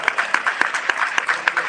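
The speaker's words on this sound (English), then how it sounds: "Here, Councilman, another round of applause." Scattered, fairly regular claps from a small group welcome a councilman at a local political gathering in Newark, a steady hum running underneath.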